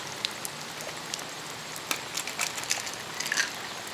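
Rain patters down outdoors with scattered drops ticking sharply on a nearby surface, light and steady, with no talking.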